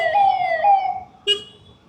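A police vehicle siren wails on a city street in Vijayawada at night, loud and near, with falling tones that give way to a brief sharper blast before fading.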